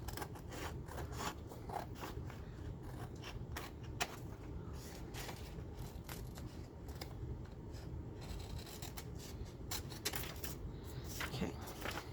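Scissors snipping paper for a lapbook, a steady run of close, soft cutting and rustling strokes with small clicks, continuing for several seconds at low level with no talk over it.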